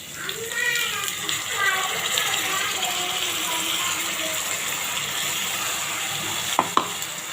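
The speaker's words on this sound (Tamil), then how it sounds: "இதையும் சேர்த்து நல்லா வதக்கலாம்" Onions sauté with a ground paste of mint, coriander and green chilli, giving a steady low sizzle and stirring scrapes, with a few sharp clinks near the end and voices talking over it.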